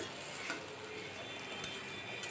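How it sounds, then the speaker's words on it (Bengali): Okra frying in a pan with salt and a little turmeric gives a faint, steady sizzle with occasional soft ticks and stirring clicks, close by and with no talking. "তো ঢ্যাঁড়স ভাজা বসিয়েছি, নুন আর একটু হলুদ দিয়ে দিয়েছিলাম।"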